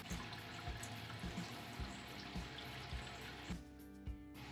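An Anvil Foundry brewing system drains and drips during a homebrew stout brew day, with quiet steady trickling and splashing and regular soft drips, faint and close.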